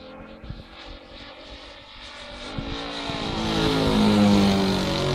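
Propeller engine of a Hangar 9 Valiant model airplane at an airfield, buzzing as it builds from moderate to a loud, sustained whine that climbs in pitch near the end.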